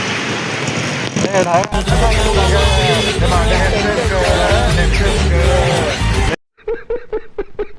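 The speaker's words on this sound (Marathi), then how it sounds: "याचा करते नुसता पाऊस" Heavy monsoon rain in Thane roars loudly while several people talk over it; the downpour cuts out abruptly near the end, leaving only voices.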